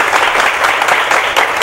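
Louder, fuller audience applause at a university lecture, a brief, steady burst of many hands clapping with no gaps, heard alone.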